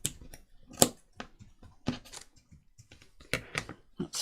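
Scissors cutting paper while finishing a shabby chic journal, a series of quiet, close snips and rustles at irregular intervals.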